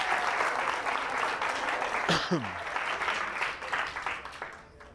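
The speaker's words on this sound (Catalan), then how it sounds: "Aplaudiment, si us plau" Studio audience of a Catalan TV quiz show claps throughout, steady applause that starts loud and thins near the end, with a brief voice or tonal sound partway through.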